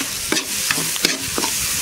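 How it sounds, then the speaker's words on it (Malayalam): Onion, tomato, turmeric and salt masala sautés in a pan, heard as about four distinct spatula stir strokes scraping through a soft sizzle, close and fairly loud, with no voices. "നമ്മുടെ ഉള്ളിയും തക്കാളിയൊക്കെ നന്നായിട്ട് വാടി വന്നിട്ടുണ്ട്."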